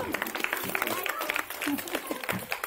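An audience claps for a child at a school food festival: a short, busy patter of many hands, moderately loud, mingled with chatter from the crowd.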